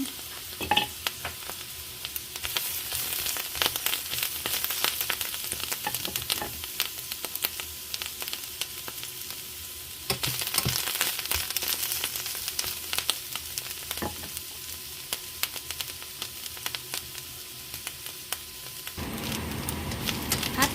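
Mushrooms and chili stir-frying in oil in a home kitchen pan, a steady close sizzle with scraping stirs and rattles running throughout, no talking.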